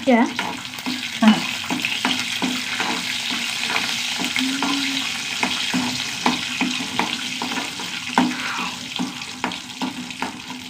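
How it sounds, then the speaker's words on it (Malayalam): Peanuts roasting in a little oil in a pan, giving a continuous close sizzle with frequent clicking and scraping from stirring throughout, plus faint splashy water-like noise in the background. "ആദ്യം നമുക്ക് നിലക്കടല ഒന്ന് വറുത്തെടുക്കാം കേട്ടോ കുറച്ച് എണ്ണ അടിച്ചു കൊടുക്കാം"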